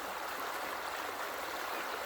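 Creek water rushes steadily through a river sluice, rolling and churning back on itself over a small drop, a close, constant hiss with no voices.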